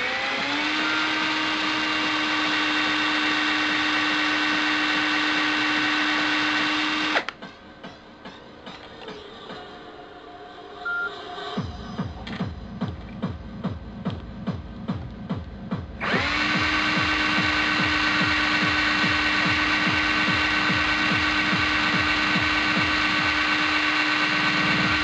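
A drill with a branded bit bores into a Nokia N95 phone: a loud, steady motor whine, then a rhythmic, lower, labored grinding as the bit bites into the casing, then the steady whine returns.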